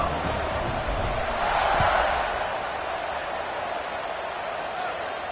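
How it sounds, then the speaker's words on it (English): A stadium crowd buzzes after a score at a Washington vs Colorado college football game: a steady, dense roar of many voices that swells briefly and then holds, with no clear single voice standing out. "this crowd is buzzing after that last score"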